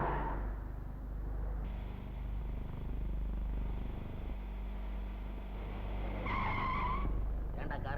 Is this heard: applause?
no